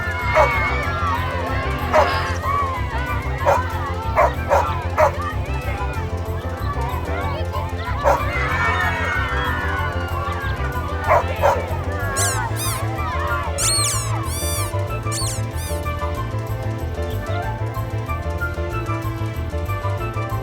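A dog barks and whimpers in a puppet show for kids, with scattered barks and high whines over a steady background and voices talking throughout.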